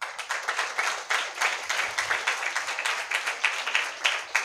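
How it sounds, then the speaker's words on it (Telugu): A church congregation claps hands at a night service, in a steady stream of dense, rhythmic applause with regular pulses, loud and close throughout. "నమ్మిన వాళ్ళు చప్పట్లు కొట్టండి."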